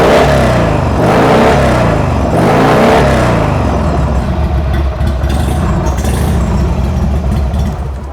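Motorcycle engine at a helmet workshop revving hard through its exhaust, loud and close, with strong blips in the first few seconds before settling into a rough, rumbling idle.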